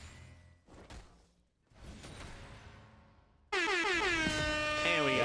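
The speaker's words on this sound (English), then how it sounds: "We got the air horn for the first blood." A loud blaring air horn sounds during a college League of Legends esports broadcast, preceded by thumps and a whoosh, then a sustained brassy honk that holds steadily to the end.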